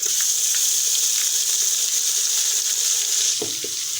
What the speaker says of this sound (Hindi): अब लहसुन अदरक को हम भूनेंगे।